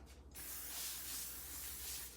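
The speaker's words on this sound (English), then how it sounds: "with the plastic wrap down here, I'm just going to spray it with some" Cooking spray hisses from an aerosol can onto plastic wrap laid out for bread dough, one steady burst close up after a brief quiet moment.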